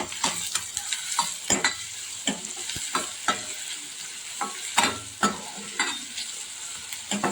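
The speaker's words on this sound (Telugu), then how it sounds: "ఎర్రగడ్డలు ఇలా వేగుతున్నప్పుడు రుచికి సరిపడా సాల్ట్ వేసుకున్నాము." Onions frying in a pan with salt added, a soft steady sizzle punctuated by frequent rhythmic stirring scrapes and taps, nearby and with no talk.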